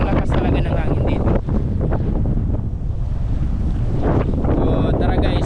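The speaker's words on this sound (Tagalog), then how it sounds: "sobrang lakas talaga ng hangin dito" Strong wind buffets the microphone outdoors in the Panglima Sugala area of Tawi-Tawi, a loud continuous roaring rush with gusty surges, and a voice speaks faintly beneath it.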